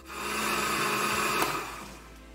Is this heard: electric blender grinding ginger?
yes